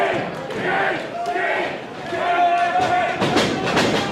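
Wrestling event crowd cheering and roaring through an arena, a steady loud wash of voices with rising bursts and a couple of thuds near the end, commentary voices talking over it.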